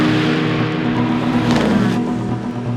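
Peugeot endurance race car engine under heavy load on the long straights at the 24 Hours of Le Mans circuit, a loud, steady high-revving drone with strong harmonic whine, close and continuous without speech.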